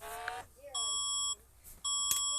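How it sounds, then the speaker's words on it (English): An emergency alert system alarm sounds in two sustained electronic tones separated by a brief gap, shrill and evenly pitched, with a short tone burst at the start. "It's literally just beeping and it's annoying me."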